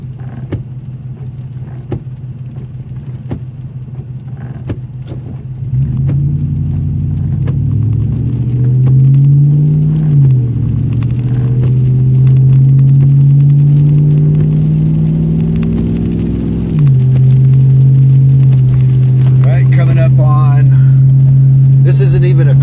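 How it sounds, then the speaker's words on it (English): Cars drive down a road beside a flood-control canal near Addicks Reservoir after heavy flooding, a loud, close, steady rumble and tyre whir that swells as vehicles pass. "I'm seeing a lot of cars coming down."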